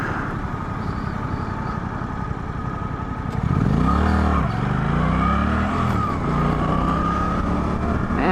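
A 2024 Suzuki GSX 8S motorcycle pulls away hard from a traffic light: a low idle-like rumble gives way to loud, close engine revving with rising and falling pitch as it shifts up through the gears.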